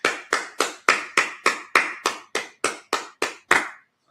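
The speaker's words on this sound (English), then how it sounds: "Let's clap it up." Twelve evenly spaced claps ring out in a steady rhythm at a Sabbath service, each sharp and distinct with a short decay, then stop.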